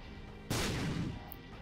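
A single heavy bomb explosion in The Binding of Isaac: Rebirth. It hits suddenly as a loud, booming burst with a rumbling low end and a short decaying tail, over a quiet steady background.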